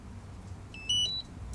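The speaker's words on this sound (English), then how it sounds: "That looks like a little piezo buzzer." A small piezo buzzer inside a DJI Power 1000 V2 portable power station gives a brief, high-pitched electronic beep that steps between two tones for about a third of a second over quiet background hum.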